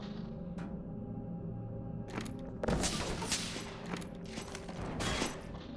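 Enemy gunfire in Entropy: Zero, distant crackling volleys of rapid shots that build into dense overlapping bursts, with no voices.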